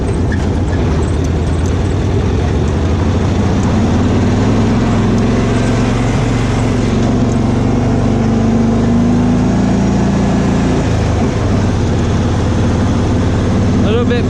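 Cushman Truckster utility vehicle engine labouring up a hill in third gear, a loud, steady low drone with rumbling harmonics that dip and shift slightly near the end, with a voice talking over it.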